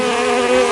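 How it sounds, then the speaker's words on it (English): A bee buzzing close up, a loud, steady drone lasting under a second with no other sounds. "the first sound was of a bee and we call it buzzing sound"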